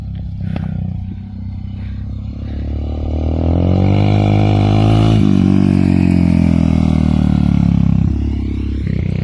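A motorcycle runs on a flat track, its engine droning and rising in pitch as it accelerates past close by, loud and continuous with a brief clatter near the start.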